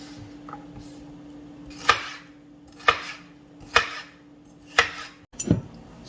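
A knife chops peppers and onions into strips on a cutting board, five crisp, evenly spaced cuts about a second apart, close and clear over a quiet kitchen hum.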